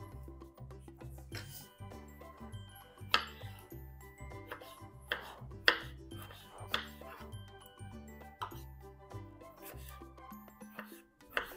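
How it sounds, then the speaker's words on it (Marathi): Knife slicing tomatoes into long strips on a cutting board, a quick series of crisp chops and board taps with someone talking over them. "आता टोमॅटो कापणार आहे."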